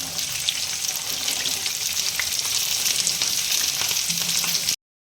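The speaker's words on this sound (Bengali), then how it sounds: "আমি এখন বিনসটা ভেজে নিচ্ছি।" Green beans frying in hot oil in a pan give a steady, loud, dense sizzle with fine crackling throughout, and no voice over it, stopping abruptly near the end.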